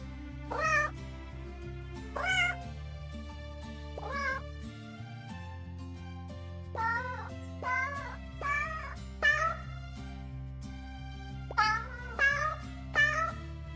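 A cat meows repeatedly, a run of short, distinct mews spaced irregularly over soft background music, some close together in quick bursts.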